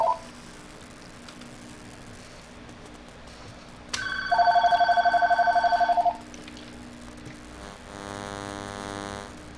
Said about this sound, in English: And that, of course, was the cell phone.